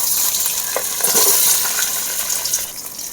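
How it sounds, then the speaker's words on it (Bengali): Cut potatoes hitting hot oil in a kadai, a loud bright crackling sizzle filling the whole stretch, with a brief bubbly surge early on and no speech. "তেল গরম হয়ে গেছে, এবারে কেটে রাখা আলুগুলো ভেজে নেব।"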